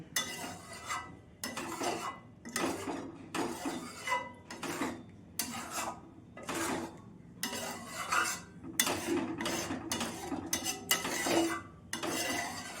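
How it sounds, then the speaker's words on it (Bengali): A spoon stirs thick sago khichdi in a pot, giving repeated scraping and clinking strokes in an uneven rhythm, close and moderately loud with short pauses between bursts. "সাবু তো একটু বেশি ঘন ঘন নাড়তে হবে, নাহলে তলাটায় বসে যাবে।"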